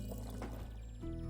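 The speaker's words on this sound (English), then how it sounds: "Pour the drink." Liquid pours into a mug in a tavern video game, a short synthetic glugging fill with a bright tonal chime near the end, close and alone.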